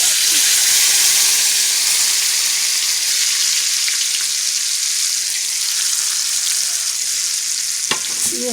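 A hot tempering of oil and spices poured over squash raita sizzles and hisses steadily and loudly up close, with a brief clatter near the end.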